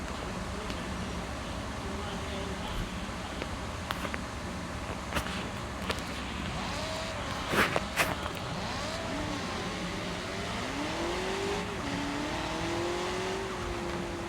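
A BMW M5 Competition drives in the Car Parking Multiplayer game, its engine droning steadily with rising revs near the end and a few brief clicks, under a constant wash of game noise.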